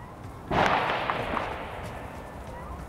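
A single sharp shot cracks out suddenly and rolls away into a fading rumble, heard at moderate distance over quiet outdoor background.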